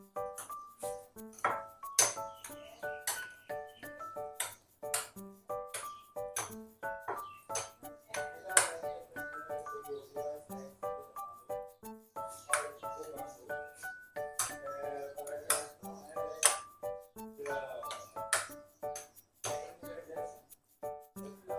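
A utensil mixes coarsely ground raw mango chutney in a bowl, with repeated bright metallic clinks and pings in an irregular rhythm, close and moderately loud, while a person speaks intermittently.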